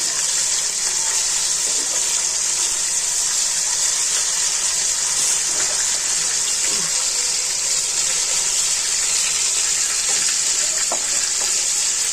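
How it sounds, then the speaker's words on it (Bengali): Tilapia fish frying in hot oil, turned from side to side, gives a loud, steady, close-up sizzle that hisses on without a break from start to finish. "তেলাপিয়া মাছগুলো এপিট ওপিট করে ভেজে নিলাম, উল্টাই দিব"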